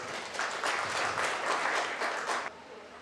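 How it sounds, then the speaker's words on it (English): A crowd at a county fair 4-H goat show applauds steadily for a few seconds, a wash of many hands clapping that drops off abruptly near the end. "Let's give them all a big round of applause."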